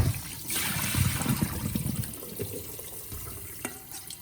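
Purple cabbage is rinsed under a running kitchen tap, water splashing and trickling steadily over the leaves at close range, with brief bursts of heavier flow and handling noises.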